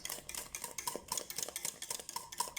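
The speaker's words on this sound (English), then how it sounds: "And you just keep on stirring it" A utensil stirs milk tart filling in a pot over very low heat, producing soft, repeated scraping and clinking strokes in a steady rhythm, close and fairly quiet, with no talking.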